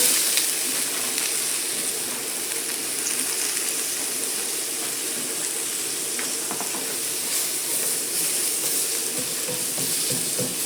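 Onions sizzle and hiss steadily in a hot pan, a dense, even frying sound with occasional faint stirring scrapes, close up and uninterrupted.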